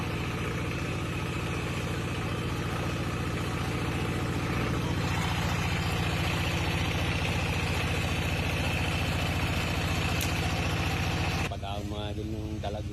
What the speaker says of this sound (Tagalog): Hinihigop ng makina.